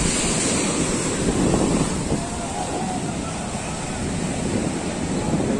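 Sea waves surging onto the beach at Old Digha, a continuous loud wash of surf mixed with wind buffeting the microphone, with no distinct breaks between swells.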